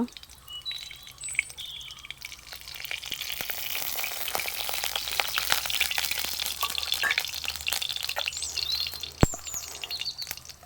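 Mustard seeds frying in hot oil in a pan, a steady crackling sizzle with scattered sharp pops throughout, close and continuous, with no voice over it.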